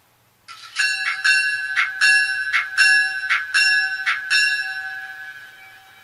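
Bell of a Kato Olympian Hiawatha model train set sounding from its sound system, a steady run of about eight bright metallic clangs in even rhythm, loud and close, ringing alone and fading at the end.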